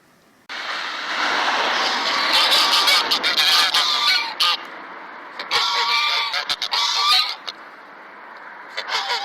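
A flock of geese honks loudly and close, a dense overlapping chorus of raucous calls that breaks off and resumes in bursts, with a few scattered honks trailing at the end.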